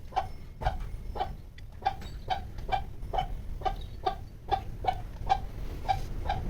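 A large broody hen sitting on eggs clucks over and over in a steady, evenly spaced rhythm, close and fairly quiet, with no other sounds.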